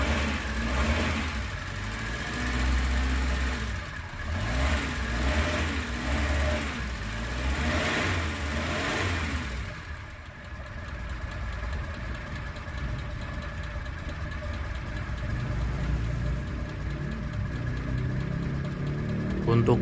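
A used minibus that formerly served as an angkot runs with a steady, moderately loud engine hum, rougher and busier in the first half and settling into a smoother drone later, with people talking over it in places.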